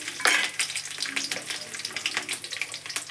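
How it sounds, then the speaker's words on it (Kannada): Curry leaves crackle and spit in hot oil alongside browned onions, a busy close sizzle with sharp pops and a few stirring scrapes, no voices. "ಇದು ಬ್ರೌನ್ ಬಂದಮೇಲೆ ಒಂದಷ್ಟು ಕರಿಬೇವಿನ ಸೊಪ್ಪು ಹಾಕ್ತೀನಿ"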